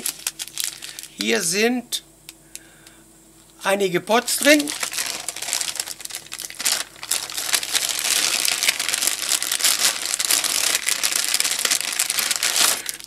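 A plastic bag of mail is opened and rummaged through, giving continuous close crinkling and crushing that swells and persists after someone speaks briefly in German.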